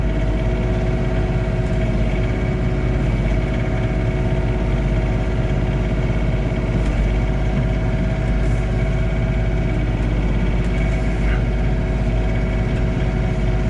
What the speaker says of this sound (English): So we'll start out blowing around the garage doors at 2000 RPM.